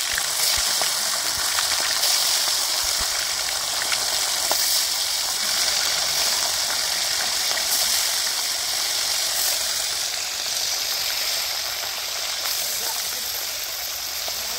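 Fish coated with salt and turmeric fry in oil in a village setting, giving a dense, even hiss of sizzling that continues steadily from start to end.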